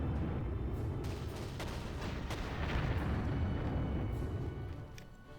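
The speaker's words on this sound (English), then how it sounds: "We'll take you guys and start the bombings" Bombing attack in the Panzer Corps war game, a rumbling series of distant explosions and artillery-like booms rolling on steadily before fading, fairly quiet and with no talking.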